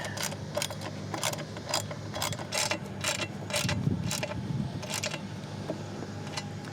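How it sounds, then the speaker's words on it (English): A 10mm socket ratchet drives a bolt into a part on a 2025 Ford Explorer ST, giving a close, steady series of rapid metallic clicks with a brief low rumble partway through and no speech. "go ahead and just screw her in place. 10mm socket is really all you need."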